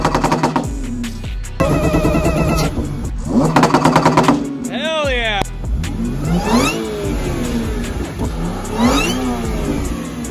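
An Audi car engine revs hard several times, with a loud, crackling, popping exhaust and rising and falling pitch, close by; a voice speaks briefly.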